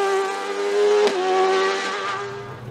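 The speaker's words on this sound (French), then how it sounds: "François-Xavier Thiévan a exploité tout le potentiel de sa Nova Proto NP03" A Nova Proto NP03 race car at full throttle on a hill climb at La Pommeraye, its loud engine a steady high whine with a sharp gear-change dip, passing close then fading slightly.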